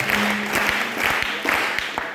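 A church congregation claps and applauds together during a sermon, a dense, steady wash of hands with a roomy sound that lasts the whole short stretch.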